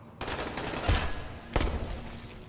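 Bursts of gunfire in Dying Light: two sharp, loud volleys of shots about half a second apart, with rapid crackling fire and reverberation carrying between and after them.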